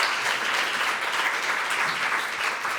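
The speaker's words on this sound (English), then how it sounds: "you can give applause" Steady, dense audience applause at a policy conference on AI and social security, continuous and fairly loud throughout with no break.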